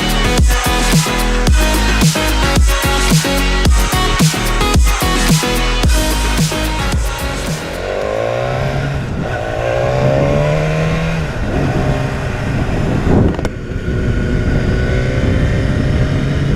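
A 2017 BMW S1000R, an inline four-cylinder motorcycle, runs loud and close: rapid revving bursts and gear changes for about eight seconds, then a steadier, smoother engine drone with rising and falling pitch as it rides on.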